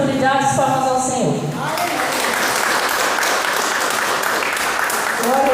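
A church congregation bursts into applause during a family worship service, a dense, steady clatter of clapping that carries on after a speaker's voice fades out at the start and continues to the end.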